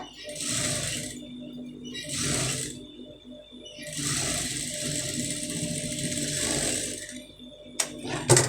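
A sewing machine stitches a round neckline on fabric in three steady whirring bursts separated by brief pauses, close and fairly loud, ending with a small clack, with no talk.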